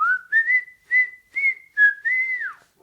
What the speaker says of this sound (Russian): я просто насвистывала мелодию,